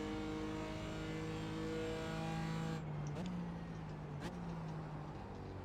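A GT4 race car engine in the iRacing simulator holds a steady high drone at Mid Ohio, with pitch drops and rises between shifts, under quiet commentary.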